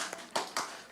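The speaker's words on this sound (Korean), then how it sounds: "박수." Three quick, sharp claps from a church congregation, close and brief, with no talk over them.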